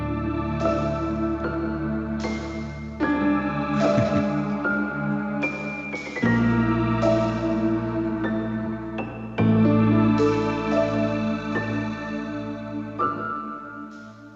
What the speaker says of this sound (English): the only track where it actually does serve a narrative function is in the Game Over theme